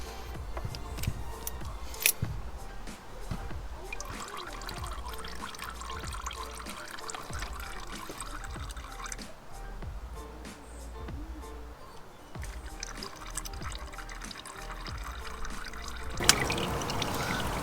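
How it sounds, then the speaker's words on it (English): Engine oil drains and dribbles from a Yamaha XT1200Z motorcycle during a full service, a steady trickle with occasional splashes and clinks, close and moderately quiet for a long stretch. "We'll let this drain for a while until it stops dripping"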